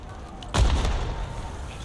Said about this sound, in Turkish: Bir bomba daha geldi.